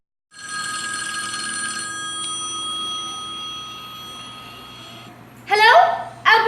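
An old-style telephone bell rings in one long, continuous, loud burst, then stops, and a voice starts speaking just afterward.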